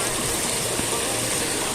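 Large, fast-flowing water rushes steadily at Sungai Ara, a broad continuous roar with no break across the short stretch.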